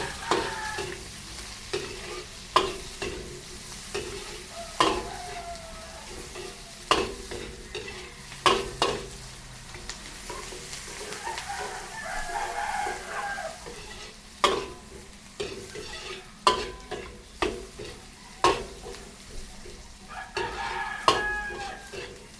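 Garlic, ginger and onion sizzle in hot oil while being stir-fried, with repeated scraping stirs of a spatula in a rhythmic pattern and a rooster crowing faintly in the background outdoors.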